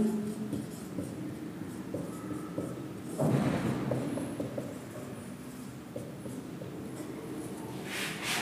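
Chalk or marker scratching names onto a classroom board, soft continuous strokes with brief taps, fairly close and steady, with one louder rubbing stroke partway through and no voices over it.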